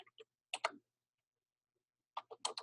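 A computer keyboard gives two short clusters of crisp, quiet keystroke clicks, separated by a long silence in a still room.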